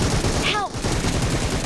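Rapid machine gun fire in a team deathmatch video game, a dense stream of loud shots with a brief voice cutting in partway through.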